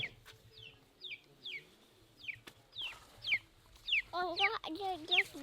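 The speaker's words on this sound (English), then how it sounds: "There's a chicken." Chickens cluck in a Malagasy village, a series of short sharp clucks repeating about once a second and growing louder and busier toward the end, over faint background village noise.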